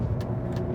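A 2021 Hyundai Veloster N's engine drones steadily and loudly up close, a brief sustained accelerating roar with no voices.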